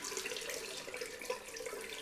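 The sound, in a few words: hot water running from a tap into a bowl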